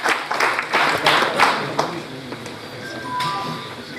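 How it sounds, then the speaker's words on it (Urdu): Audience at a book launch ceremony in Islamabad claps in scattered bursts, moderately loud and close, thinning out toward the end as a few light taps and background sounds remain. "تالیاں تھوڑی سی صحت کے حوالے سے نہیں بلکہ خلوص کے حوالے سے بجائیے گا"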